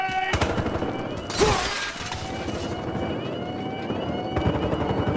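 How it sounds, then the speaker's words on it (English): A grenade blast in the Battlefield Hardline video game, a sudden loud burst with shattering debris, set against sirens and continuous background combat noise. "now let's check out the sound of the grenade"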